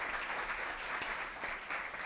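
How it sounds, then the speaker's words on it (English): Audience applause at a Claremont Colleges campus event, a steady dense wash of many hands clapping that holds evenly for the whole stretch with no talk over it. "So we can give them a round of applause."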